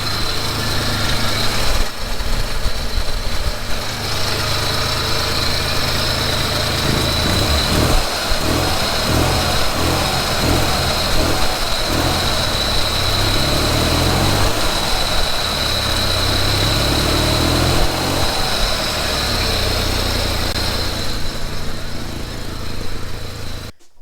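A Chevrolet Corvair engine idling steadily, a loud, close, uneven mechanical rumble with a faint lope that runs on without pause, and no voices.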